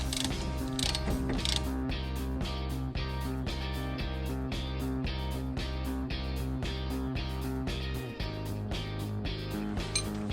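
A ratchet fitted with a 3/4 deep socket clicks in fast regular bursts, tightening the bolts of a hitch receiver on a Toyota 4Runner, with close metallic ratcheting and short pauses between strokes.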